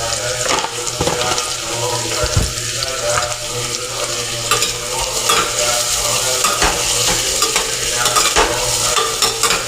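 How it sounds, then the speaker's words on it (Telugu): Onions with a little salt frying in a pan while being stirred, loud close sizzling with repeated scraping and clattering strokes of the spoon, faint background hum. "ఆనియన్స్ వేసాక లైట్గా సాల్ట్ అనేది వేసుకుంటే ఆనియన్స్ తొందరగా వేగిపోతాయి"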